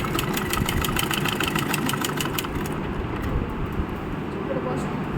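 A sewing machine stitches cloth in a rapid, steady mechanical rattle with a fast ticking rhythm that carries on unbroken, loud and close, with someone talking over it.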